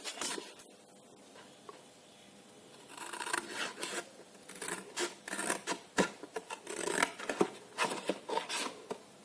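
Scissors cut through paper for a homemade pencil holder, a quiet run of quick close snips and rustles that grow more frequent and irregular.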